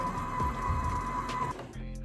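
A stand mixer whisks wet vegan cookie ingredients with a steady, close motor whine and a faint rhythmic churning, the drone shifting and thinning near the end.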